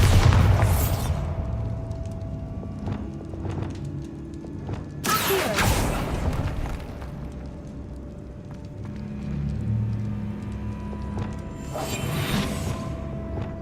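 A Bombarda explosion spell cast in Hogwarts Legacy bursts loudly and broad, a single sharp blast with a rushing tail, set among ongoing game ambience with lighter whooshes before and after.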